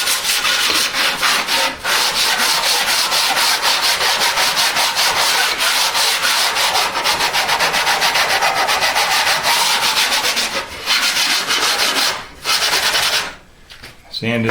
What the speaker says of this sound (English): I'm also doing a little light sanding